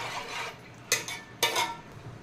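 A spoon stirs salt into chicken curry in a pot, giving soft scraping swishes punctuated by two distinct metallic clinks against the rim, close and clear with no talking.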